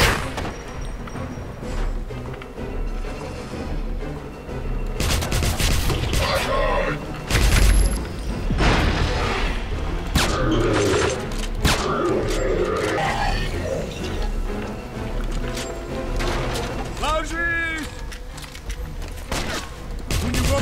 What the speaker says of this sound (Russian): Ложись! У него патронная пушка!